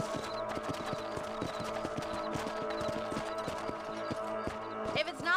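A horse clip-clops at a steady trot in the video game Red Dead Redemption, its hooves rhythmic and close, over continuous background sound with voices talking.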